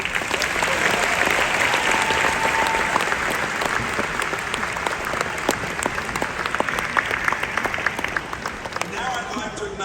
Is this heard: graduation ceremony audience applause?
yes